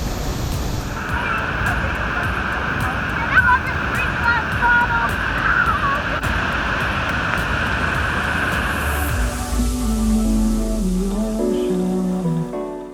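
A waterfall in the mountains of northern Vietnam gives a steady, broadband rushing roar that holds evenly for about nine seconds before softer background sounds take over.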